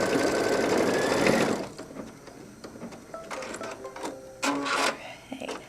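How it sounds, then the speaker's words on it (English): An embroidery machine sews a tacking stitch joining front and back pieces. A loud, fast mechanical whir runs first, then gives way to quieter clicks and short bursts of stitching. "We're tacking the front and the back together"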